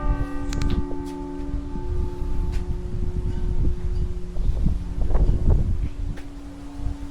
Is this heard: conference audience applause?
no